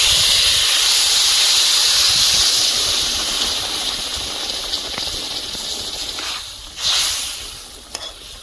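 Water poured into a hot pan of fried Pomfret fish sets off a loud, steady steam hiss that fades slowly, with a brief flare of hissing near the end.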